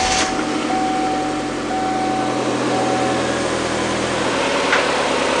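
A Kia Sportage engine idles smoothly after its throttle body and idle air control valve were cleaned, a steady low rumble with a faint whine, heard close and alone.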